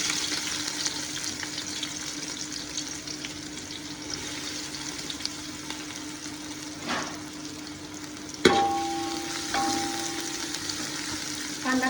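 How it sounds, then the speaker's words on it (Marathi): Onions sizzle and fry steadily in hot oil in a large pot during chicken dum biryani preparation, a continuous crackle with an occasional louder clatter of stirring near the end. "तेल चांगलं गरम झाले आणि आता आपण याच्यात कांदा टाकूया आणि चांगला लालसर होईपर्यंत तळून घ्यायचा."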